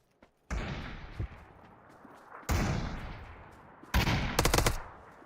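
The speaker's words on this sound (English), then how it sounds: "6 enemies left and we can hear 3 of them shooting" Enemy gunfire in a battle royale shooter, arriving in three separate bursts of rapid shots, each a dense crackling roar that trails off before the next, the last burst the sharpest with distinct closely spaced reports; fairly loud, no talking.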